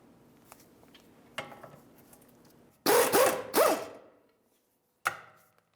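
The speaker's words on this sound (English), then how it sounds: "Give this a couple loving bonks to break it free." A hammer strikes a tie rod end on the trailing arm of a 2000-2005 Buick LeSabre: one sharp knock, then a tight cluster of loud metallic bangs, and a final single ringing blow.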